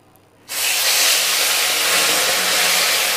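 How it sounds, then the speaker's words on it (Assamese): Fish (Labeo bata) drops into hot mustard oil in a pan, and a loud, steady sizzling hiss starts abruptly and holds until the end. "এয়া চাওক, তেলখিনি গৰম হৈছে। এতিয়া মাছখিনি মই দি দিছোঁ।"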